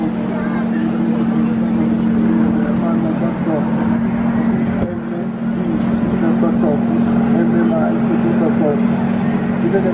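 A steady, loud engine drone from an aircraft at the Jesolo Air Show, holding a constant hum throughout with a brief dip midway, while a person talks over it.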